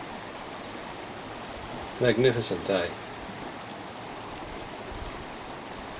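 A river in northeast Victoria rushes steadily in a constant broadband wash, and someone speaks briefly over it.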